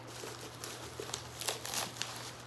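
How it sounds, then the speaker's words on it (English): Faint crinkling and rustling of plastic packaging being unwrapped from a rolling saddle stool, soft irregular crackles over a low steady hum, close but quiet. "let's just unwrap everything"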